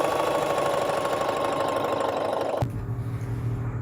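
A sewing machine runs steadily as it stitches one side of a curtain for a VW van, the motor whirring closely for most of the stretch before stopping abruptly near the end.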